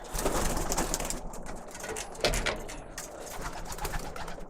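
Birmingham Roller pigeons cooing inside their loft, soft repeated throaty coos overlapping from several birds close by, with faint rustling and wing movement and no voices.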